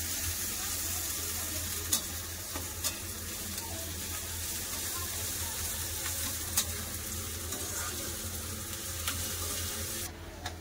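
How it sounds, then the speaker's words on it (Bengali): Onions frying in oil until browned, a steady close sizzle running throughout with a few sharp clicks of stirring and no voices. "পেঁয়াজ আমি খুব সুন্দর করে লাল করে ভেজে নিয়েছি"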